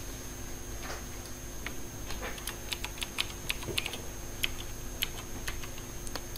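Keys tapped in a quick, uneven patter as a new password is entered on a keyboard, light close clicks over a steady electronic hum, with no voices.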